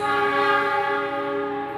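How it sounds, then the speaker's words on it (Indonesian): The Argo Wilis passenger train, running from Surabaya Gubeng to Bandung, sounds a loud, sustained multi-tone horn as it arrives at the station, close and steady for about two seconds. "ini ada kedatangan kereta api Argo Wilis nih"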